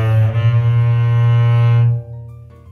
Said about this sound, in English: The double bass can also be played with this, called a bow. It sounds like this.